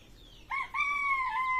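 A single rooster crows loud and close, a drawn-out rising call that holds steady for about a second, with no talking.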